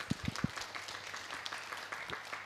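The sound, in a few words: audience applause for Bella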